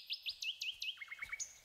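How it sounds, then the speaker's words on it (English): Island birds in a video game chirp in a quick series of bright, rising and falling tweets, about a dozen close calls in rapid rhythm with no voices over them. "Birds."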